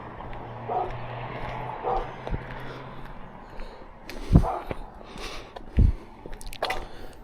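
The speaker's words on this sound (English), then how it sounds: "There's some loud dogs." Loud dogs barking from a parking lot below a trail in Cecil, Gilmore and Westland, with a couple of sharp barks standing out over outdoor background noise.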